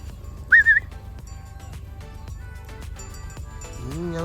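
A sharp, high whistle on a blueberry farm, blown to call the farm dogs, gives two quick rising-falling bursts near the start, then the scene carries on with faint background noise and a brief tonal sound at the end.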